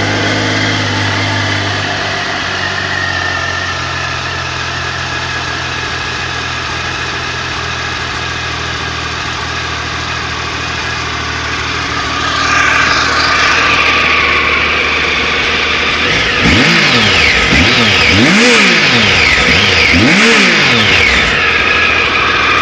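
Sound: 2002 Triumph Tiger 955i motorcycle cold start and revving

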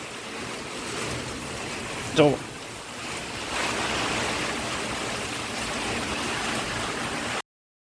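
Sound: heavy rain

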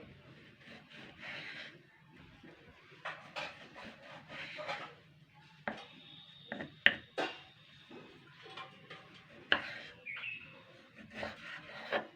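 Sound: knife chopping raw mango into fine pieces

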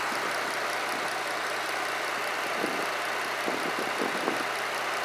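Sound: car engine running with a little shake

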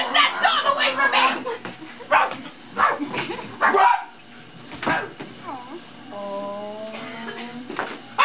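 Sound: dog barking

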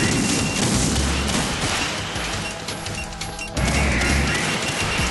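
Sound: gunfire from the video game Metal Gear Solid 2

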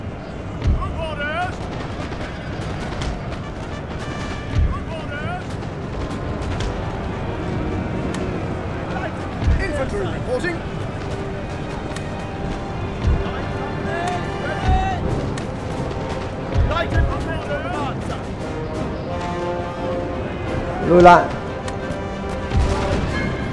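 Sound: artillery and gunfire in Napoleon Total War video game

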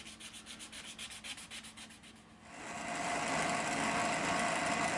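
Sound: sanding knife scales of G10 and copper

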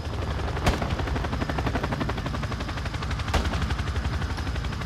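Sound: gunfire in Call of Duty Modern Warfare II video game

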